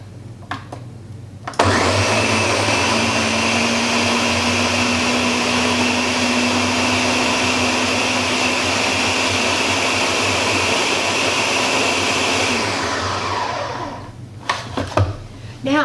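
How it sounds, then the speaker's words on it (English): A blender purees whole scrubbed, skin-on tomatoes for fresh salsa, its motor kicking in loud and close and whirring steadily for roughly eleven seconds before spinning down, with brief handling clatter before and after. "blend them up."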